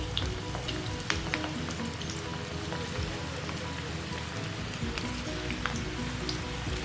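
Ragi and moringa leaf pakoda batter dropped in small pieces into hot oil, frying with a steady dense crackling sizzle and scattered sharper pops throughout, close and continuous with no talking.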